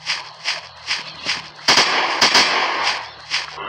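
Sniper rifle fire in Dinosaur Zoo Hunting Sniper 3D: a string of sharp cracking shots spaced about half a second apart, with a denser, louder burst of impacts midway, then the evenly timed reports resume; no voices.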